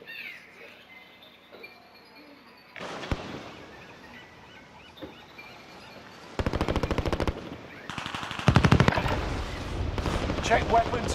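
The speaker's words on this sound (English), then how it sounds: "I always hip fire first and then start aiming down" Rapid automatic gunfire from a weapon fired from the hip in a first-person shooter video game, loud bursts of fast shots crackling in dense clusters after a quieter stretch of game ambience.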